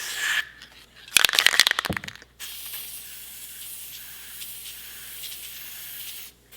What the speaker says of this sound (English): And then we're just gonna spray inside both sides of the bearings.